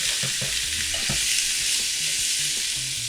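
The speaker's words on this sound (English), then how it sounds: "We're gonna put in our stew meat, and we're gonna brown it." Stew meat browns in hot olive oil over medium-high heat, a steady loud sizzle with a few soft stirring knocks, no talking.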